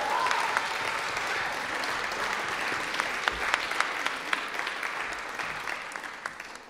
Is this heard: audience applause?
yes